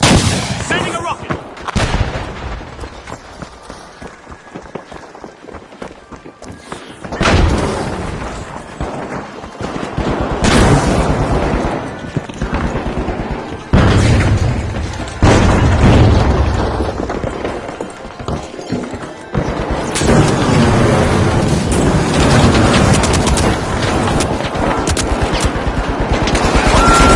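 Rocket explosions and heavy gunfire in the video game The Finals, loud repeated blasts and sustained bursts of shots filling the clip, with a voice talking in between.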